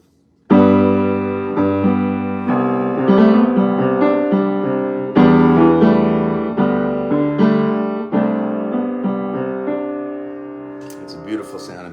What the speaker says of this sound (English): This is the sound of the piano,